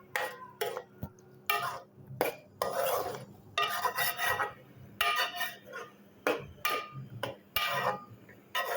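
Boiled goat meat tipped into frying masala in a pot, with repeated metal spoon scrapes, clinks and stirring knocks in an uneven rhythm, close and fairly quiet.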